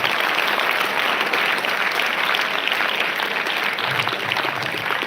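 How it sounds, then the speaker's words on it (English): Sustained applause from a school audience, loud and steady throughout, a dense wash of clapping with no voices breaking through. "let's give him a big round of applause to the same"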